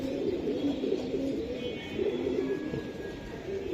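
A female Army-breed pigeon and other pigeons cooing in soft, repeated low calls, close by, with a faint steady background hiss and no talking.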